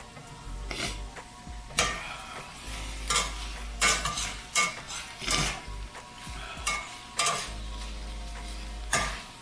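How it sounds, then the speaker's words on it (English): Onions and green peppers fry in a pan with a steady soft sizzle, broken by repeated scraping and clacking strokes of a utensil stirring against the metal, close and fairly quiet. "those onions are getting a real nice caramelization going now"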